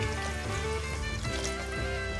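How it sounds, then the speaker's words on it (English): Water poured into a cooking pan in a home kitchen, a steady continuous trickling stream over a faint background hum, fairly quiet and close, with no talk. "Now you need to add some water to this."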